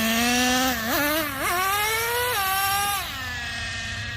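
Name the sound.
Traxxas Nitro Revo 3.3 RC car nitro engine running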